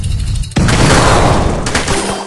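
Two combined TNT power-ups in Royal Kingdom detonate in one sudden loud boom, followed by a sustained crackling, rumbling burst of debris that tails off into a faint tone.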